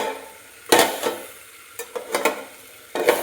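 A utensil scrapes and stirs food around a pan coated in white cooking oil, sizzling faintly. Several sharp, close strokes come in irregular bursts with short pauses between, and no one talks.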